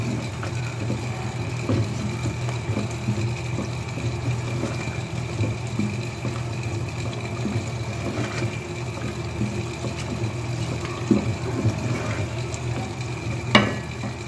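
Spiced minced meat masala with salt, red chilli, turmeric, coriander and biryani spice fries steadily in oil for keema biryani. A constant close sizzle runs under a low hum, with a few small stirring clicks and no voices.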